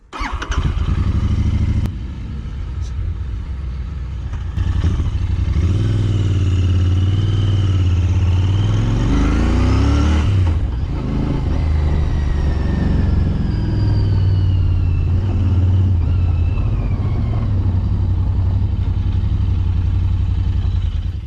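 A Royal Enfield 650 motorcycle, Interceptor or Continental GT, riding on the road, a loud steady engine drone with rising and falling revs through gear changes and strong wind rush throughout.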